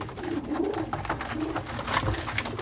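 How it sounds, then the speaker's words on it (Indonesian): Pigeons, female pied stock birds, cooing in soft repeated low throaty calls, close by over a busy background hum with no talk. "Di sini tersedia stok burung merpati, betina, plontang."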